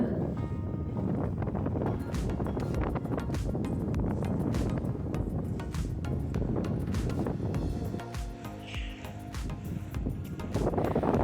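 Strong wind on a hilltop near Ooty roars and buffets the microphone continuously, a loud, rough rumble with gusts that dip briefly and then surge back.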